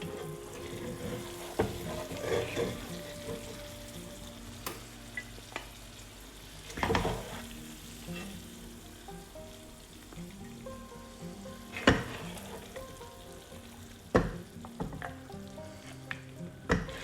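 Cooked lamb achar gosht is spooned out of a pan, with soft oily sizzling beneath repeated scrapes and clinks of the utensil against the pan.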